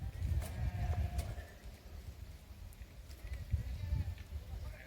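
A goat bleats in a high mountain pasture among Bakarwal herders near Srinagar, giving several close, loud bleats in two clusters over faint outdoor background.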